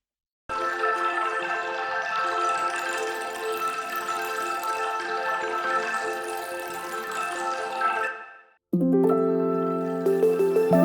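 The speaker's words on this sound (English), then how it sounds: "And this granular vocoded water sound," A dense, shimmering synthetic texture of grainy, watery tones with steady chords, cutting off briefly before a new, choppier tonal section starts.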